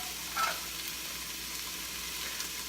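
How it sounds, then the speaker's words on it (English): Chopped onions frying in an Instant Pot give a steady, soft hiss throughout, with a brief brighter crackle near the start and no voices. "So in go the onions."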